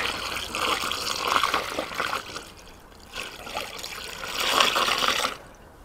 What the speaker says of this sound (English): I'm putting water in.